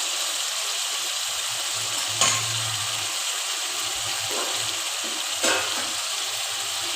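Spice masala frying in a pan with turmeric and ground pepper paste for chicken chap, a steady soft sizzle with two brief stirring scrapes, no talk.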